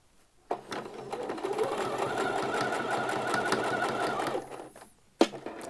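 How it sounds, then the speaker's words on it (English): A sewing machine runs a line of stitching along the edge of fabric for Thai wrap trousers, a close, steady mechanical whir of about four seconds that ends with a sharp click. "you want to do a line of stitching along one short edge, then along the long edge here"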